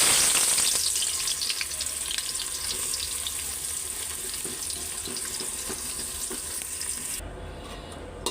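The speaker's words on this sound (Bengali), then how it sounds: "তেল গরম হয়েছে, পেঁয়াজগুলি আগে বেরেস্তা করে নিই" Onions sizzle steadily in hot oil in a pan for home-cooked biryani, a loud continuous frying hiss with faint crackles that drops away sharply near the end.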